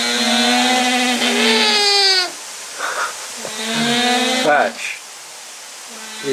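Llamas on a farm in hot weather in central France call loudly in long wavering bleats, one drawn-out cry followed by another after a short pause, close by and clear.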